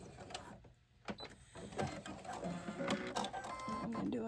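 A sewing machine stitching doll clothes for an 18-inch doll, zigzagging across fabric: a close, rapid mechanical clatter that starts, pauses briefly, then runs in uneven bursts of rattling stitches.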